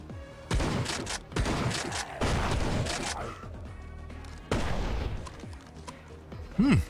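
Gunfire in the mobile zombie shooter game Zombie State, several loud bursts of shots separated by short pauses, close and harsh, with a little low talk between them.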